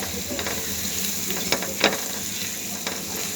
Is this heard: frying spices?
yes